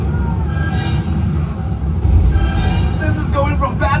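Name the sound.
Universal Studios tram in Earthquake attraction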